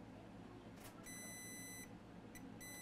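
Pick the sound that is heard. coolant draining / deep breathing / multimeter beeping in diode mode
multimeter beeping in diode mode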